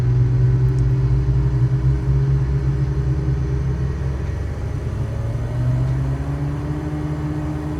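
Marchetti SF 260 piston engine in Microsoft Flight Simulator drones loudly and continuously, with a deep throbbing hum and tones that slide upward as the throttle advances.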